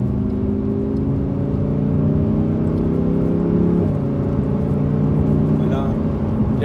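A Lamborghini Huracan driving on the road, its engine droning steadily from inside the cabin with a smooth gear change partway through, while people talk over it.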